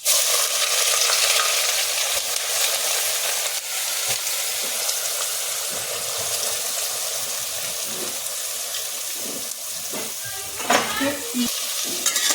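Onions frying in hot oil with whole spices for chicken stew, a loud, dense, continuous sizzle heard up close, with occasional stirring scrapes near the end and no speech.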